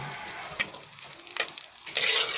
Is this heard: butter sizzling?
yes